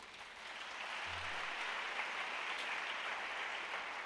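A church congregation claps and cheers for Jesus in steady, dense applause that rises and holds at a full level, filling the hall with no speech over it.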